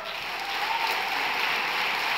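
Steady, dense applause from an audience at a film festival opening gala honouring three musicians, sustained at even loudness throughout with no voices over it.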